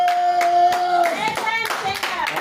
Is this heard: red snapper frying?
no